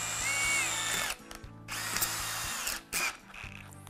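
A step drill bores through acrylic sheet with a power drill at low speed, whining in bursts of about a second each with short pauses and the drill stopping and restarting, close and loud with no talking.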